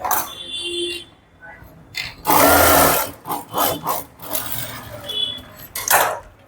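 A sewing machine runs a fitting stitch on a blouse in several short, close bursts of rapid mechanical clatter separated by brief pauses.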